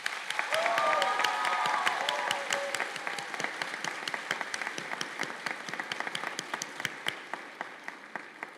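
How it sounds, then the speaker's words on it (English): Audience applause for nursing graduates at a community college pinning and candle-lighting ceremony, a full burst of clapping with a few whoops at first, then thinning to scattered individual claps that continue to the end. "Let's give them a big applause."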